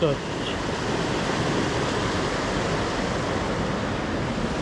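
Steady rushing water from a mountain stream in the Carpathians pours over stones without pause, a dense, continuous splashing roar close by with no voices.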